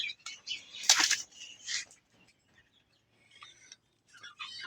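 Pigeons for sale at a bird market flap their wings in a short burst of flutter near the start, followed by quieter rustling and faint chirps.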